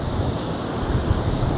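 Ocean waves at reasonably high tide lap against beach sand dunes, a steady close roar of surf with constant low rumble and wind buffeting the microphone, no voices.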